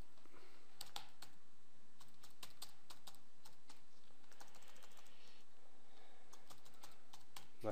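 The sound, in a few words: typing on a computer keyboard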